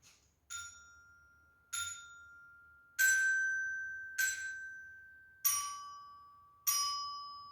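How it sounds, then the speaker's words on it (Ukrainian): Six metallophone notes are struck one by one at an unhurried pace, each ringing clearly and fading out, stepping through different pitches. "як звучить металофон."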